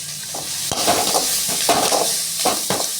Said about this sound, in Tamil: பாருங்கள் வெங்காயம் வதங்கிடுச்சு.